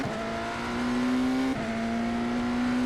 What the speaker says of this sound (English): But you can hear the electric motor kind of working a little bit.